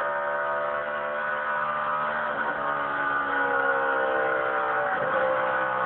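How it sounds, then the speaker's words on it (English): NASCAR stock cars racing at Texas in the AAA Texas 500, a loud sustained engine roar with shifting whining tones as cars pass, continuous throughout with no talk. "You heard how little time Tony Stewart was off the gas"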